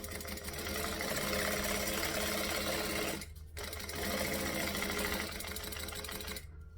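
Sewing machine stitching along a fabric panel, a rapid close mechanical chatter in two steady runs separated by a brief stop, then cutting off at the end.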